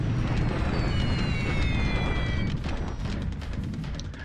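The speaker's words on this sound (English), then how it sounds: "Lily's bombing Hong Kong." Rumbling bombardment of Hong Kong in a World War II strategy game, a dense continuous roar of distant explosions with faint whistling tones, steady and loud throughout.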